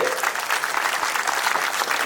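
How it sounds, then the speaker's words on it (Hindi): Loud, sustained applause from a crowd at a Govardhan Puja gathering at a gaushala in Gwalior, steady dense clapping filling the whole stretch with no pauses. "यशस्वी प्रधानमंत्री के लिए ताली बजाएं जोरदार तरीके से"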